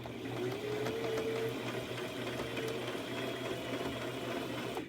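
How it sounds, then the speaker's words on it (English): A sewing machine runs fast, stitching small fabric pieces together with a continuous, even mechanical whir that holds steady for several seconds, close and moderately quiet, with no talking. "I'm going to slip on my sewing machine really fast because if I don't sew these little pieces together"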